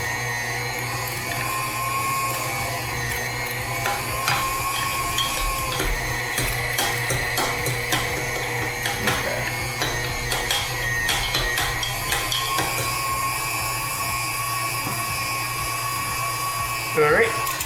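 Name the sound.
meat grinder grinding meat and bread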